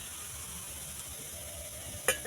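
Small shrimp chops sizzle quietly in shallow oil with a soft, steady crackle, and a brief metallic clink near the end.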